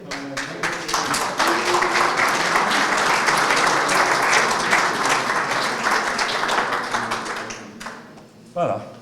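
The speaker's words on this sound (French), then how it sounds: "On peut l'applaudir." An audience at a Rotary foundation donors' gathering bursts into sustained applause, loud and dense for several seconds before tapering off, with voices talking under the clapping.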